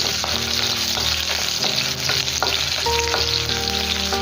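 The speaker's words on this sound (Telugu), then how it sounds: "ఇందులో వచ్చేసి కొంచెం కరివేపాకు కరివేపాకు కొంచెం ఎక్కువగానే యాడ్ చేసుకోండి ఫ్లేవర్ చాలా బాగుంటుంది వెల్లుల్లి బాగా వేగాలి" Garlic and a generous amount of curry leaves fry in hot oil in a pan, producing a loud, dense, unbroken sizzle with faint crackles, heard close with no voices.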